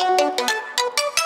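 Synth notes run through a long feedback effects chain with resonator, delay, EQ high-passing and multiband compression, giving about six bright pulsing tonal bursts with ringing harmonics, fairly loud and alone.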